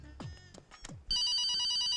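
A telephone starts ringing with a loud, repeating electronic ring that cuts in after a second of brief scuffles and voice-like sounds.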